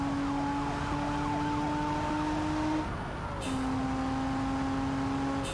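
A police car siren in the driving game BeamNG.drive pursues a BMW 3 Series, wailing steadily and loudly over engine noise, with a brief break midway before it resumes.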